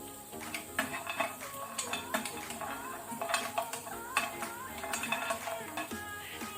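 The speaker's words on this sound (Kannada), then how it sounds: "ಈಗ ನಾವು ಸೇಮ್ ಪ್ಯಾನಿಗೆ ಒಣ ಕೊಬ್ಬರಿ ಡ್ರೈ ಕೊಕೊನಟ್ ಇದನ್ನು ಸಹ ಸ್ವಲ್ಪ ಹುರಿಬೇಕು ಲೋ ಫ್ಲೇಮಲ್ಲಿ" Dry coconut roasts in a pan on low flame, stirred with a utensil. Faint, irregular metallic scrapes and clinks against the pan recur throughout.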